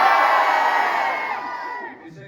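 A live audience at a screening event for the 2024 French film Chien et Chat, with Reem Kherici and Philippe Lacheau, shouts and cheers loudly for team dog, a dense wall of voices that tapers off over about two seconds.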